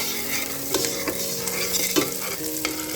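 Onion tossed into a pan of frying garlic crackles and sizzles steadily, while a handful of crisp spatula knocks and scrapes come up close every second or so.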